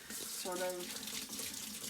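Room-temperature water runs from a kitchen tap for bread dough in a brief steady hiss and splash, with a short spoken phrase over it.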